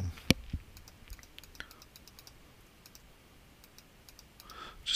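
Computer keyboard keys and mouse buttons clicking during photo retouching in Photoshop, producing sparse, quiet, separated clicks at an uneven pace, with a slightly louder cluster at the start and end.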